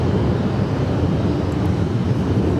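Jet airliner at Los Angeles International Airport, a steady, loud broadband engine roar holding without a break, with no voices over it.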